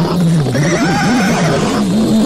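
Horses neighing in an Indonesian radio drama, a loud close whinny with a wavering, rising and falling pitch that carries through the clip over a background hiss.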